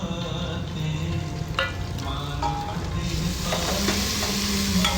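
Pounded green chilli and ginger dropped into a hot pan fry with a loud, steady sizzle while a spoon stirs and scrapes throughout.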